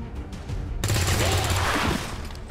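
Gunfire in the video game XCOM 2 Long War 2: after a short quiet lead-in, a loud, dense burst of rapid automatic shots rings out for over a second, then tails off.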